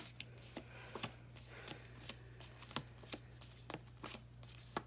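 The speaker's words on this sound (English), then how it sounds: "I'm just shuffling the cards as everybody comes into the activation portal." A deck of cards being shuffled, crisp riffles and snaps repeating at an uneven pace, faint and close over a steady low hum.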